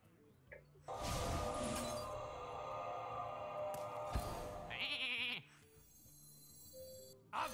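A sheep bleat from a polymorph spell in Hearthstone rings out over a bright magical shimmer, then a sharp clink and a short glassy chime.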